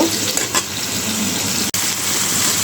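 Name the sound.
papaya being stir-fried in a pan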